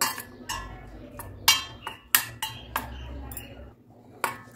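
A spoon stirs lemon food colouring into a sago batter in a metal bowl, producing a series of sharp, close clinks and scrapes at an uneven rhythm with quiet pauses between strokes.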